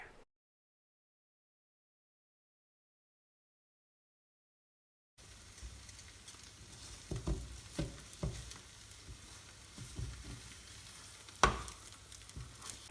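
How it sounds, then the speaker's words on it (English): An omelet with tomatoes and cheese frying in a pan, with a steady sizzle after a silent start and a few louder scraping or turning sounds close by. "the next step is to fold the omelet in half so everything cooks together"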